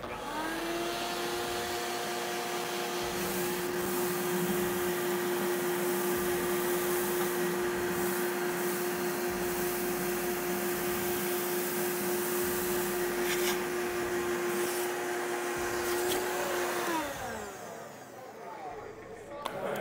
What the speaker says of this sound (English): Shop vacuum will actually just be the suction for it.